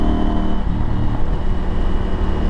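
Loud, steady close-up rumble of a KTM 890 Adventure R Rally motorcycle engine with a Wings exhaust, running continuously with slight fluctuations and no talking.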